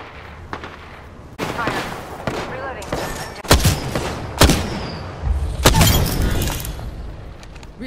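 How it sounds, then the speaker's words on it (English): Gunfire in the game Apex Legends, with repeated loud bursts of shots and sharp impacts close by, arriving in irregular volleys over a steady game backdrop. "Getting shot at."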